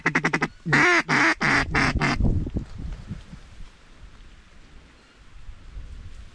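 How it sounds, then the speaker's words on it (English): Wood duck calls over a flooded corn field: a rapid series of loud, sharp, evenly spaced squealing notes at the start, then fading into quieter outdoor background with faint scattered sounds. "Wood duck."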